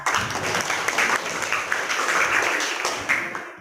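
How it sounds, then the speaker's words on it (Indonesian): Students in a classroom applaud together, a steady burst of clapping from a group that carries on for a few seconds before tapering off. "Sekali lagi tepuk tangan, Nak."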